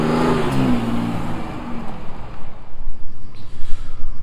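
A 2018 Ford F-150 Power Stroke pickup driving down the road, its engine tone falling away as it passes, leaving loud gusty rumbling road and wind noise, no talk.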